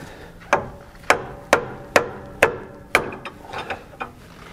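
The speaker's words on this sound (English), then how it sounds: "Just a couple of hits from the plastic hammer, it came loose." A plastic hammer strikes a car's pulley repeatedly, about eight sharp knocks at a steady pace, the last few lighter and quicker, each with a brief ringing decay.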